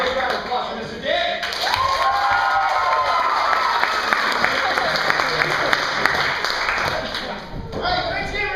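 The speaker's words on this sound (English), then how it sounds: "big round of applause for Mr." An audience at an improv comedy club bursts into sustained applause and cheering, with dense clapping and a few shouts, preceded and followed by a voice talking.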